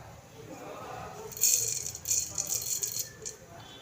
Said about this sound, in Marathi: थोडंसं तेल गरम झालं की आपल्याला जिरं मोहरी टाकून घ्यायची आहे